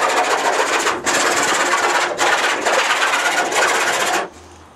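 Hand saw cutting through a zinc gutter with rapid, raspy back-and-forth strokes. The scraping is close and continuous, with brief pauses between bursts, and it stops near the end.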